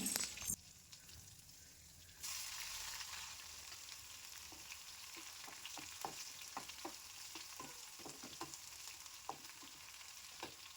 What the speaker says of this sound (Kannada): ಒಂದು ಇಡೀ ಕರ್ಬೇವಿನ ಸೊಪ್ಪನ್ನ ಹಾಕ್ಬಿಟ್ಟು ಬೆಳ್ಳುಳ್ಳಿ ಜಜ್ಜಿರೋದನ್ನ ಹಾಕ್ಬಿಟ್ಟು ಫ್ರೈ ಮಾಡಿಬಿಡ್ತೀನಿ